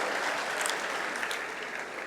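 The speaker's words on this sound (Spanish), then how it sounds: "Denle un aplauso al que resucitó al tercer día, a Jesucristo." Church congregation at an Easter service applauds, a dense, even wash of many hands clapping at a steady level throughout.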